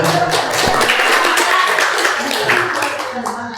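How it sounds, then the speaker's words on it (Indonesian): A small discussion audience applauds for Ibu Wahida, with steady, close hand claps from a modest group that fill the moment and slowly taper off. "tepuk tangan dulu untuk Ibu Wahida"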